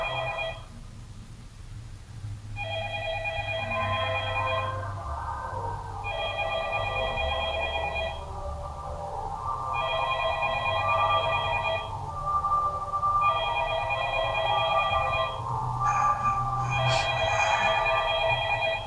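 A telephone in the eerie Backrooms setting rings in repeated double-tone bursts, about five rings with short pauses between them, over a low droning hum.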